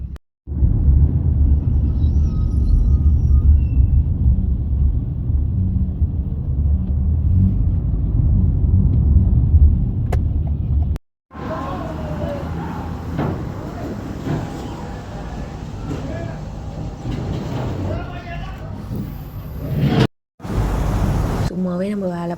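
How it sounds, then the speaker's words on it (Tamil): Heavy road traffic crawls through thick fog in the UAE, a loud low rumble of engines and tyres, broken by brief gaps and shifting to busier, brighter vehicle noise in the second half. "சும்மாவே டிராஃபிக் இருக்கும். இப்போ இந்த ஃபாகுனால ரொம்பவே டிராஃபிக்கு."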